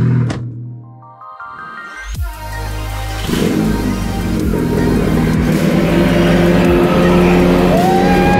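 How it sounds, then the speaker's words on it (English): A VW Golf R engine cold-starts after about two seconds of near silence: a sharp crank catches into a loud, steady, high-revving idle that stays close and continuous to the end, with no talking. "Obviously, gotta get that cold start."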